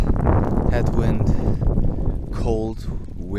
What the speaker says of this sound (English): cold, windy.